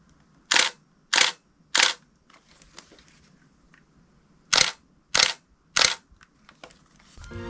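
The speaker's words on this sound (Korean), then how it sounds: "셔터 사운드를 한번 들어보도록 하겠습니다." Shutter and mirror clicks from a Fujifilm S5 Pro DSLR with a vertical grip fitted: three crisp, loud snaps in quick succession, a pause with faint handling noise, then three more evenly spaced snaps, close up with no talking.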